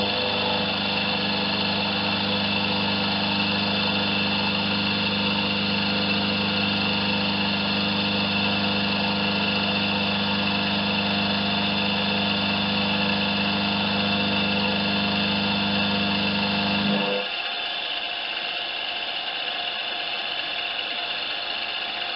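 A milling machine fitted with a gear cutter holder runs with a steady mechanical hum and whine that drops away near the end to a quieter drone.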